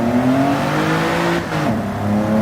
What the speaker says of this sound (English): I don't know if you hear the engine sound, but that engine grunt is just absolutely sexy